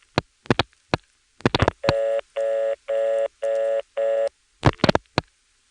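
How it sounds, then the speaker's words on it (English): Telephone dialing into a GTE/Leich CXP-5 exchange: five steady multi-tone bursts in an even rhythm, framed by sharp clicks and handset clunks before and after, clear and close with no talking. "Dialing some more."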